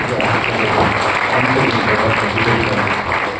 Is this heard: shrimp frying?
no